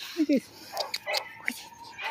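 A couple of small high-pitched puppy yips up front, then faint whimpers and soft sounds against a quiet background.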